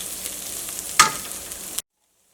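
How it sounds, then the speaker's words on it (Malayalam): Ivy gourd curry with turmeric powder frying in a pan, a brief close sizzle with a single stir or scrape near the middle, cutting off abruptly to silence. "അപ്പോൾ ഇത് ചെറുതായിട്ടൊന്ന് മുരിഞ്ഞു തുടങ്ങിയിട്ടുണ്ട്. ഇതൊന്നും കൂടി ഒന്ന് മുരിഞ്ഞ് വരണം."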